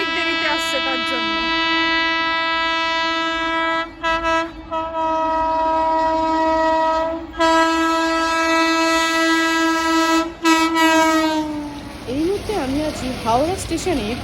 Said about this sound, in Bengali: হাওড়া স্টেশনের পূর্ব শাখাতে দেখতে পাচ্ছ অলরেডি কিন্তু ট্রেন চলে এসেছে